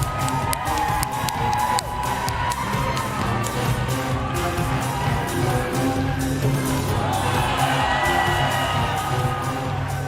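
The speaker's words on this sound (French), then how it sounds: "Sous vos applaudissements, Bastien!" A crowd at a Just Dance French Cup esports event cheers, whoops and shouts loudly and continuously, with a dense roar of voices filling the space throughout.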